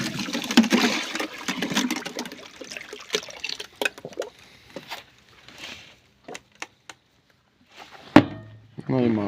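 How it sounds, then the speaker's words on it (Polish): Warm water brought from home being poured outdoors on a farm plot, heard as splashing, chopping liquid sounds early on, then scattered clatters and drips with pauses and voices nearby. "My idziemy ciepłej wody wlać."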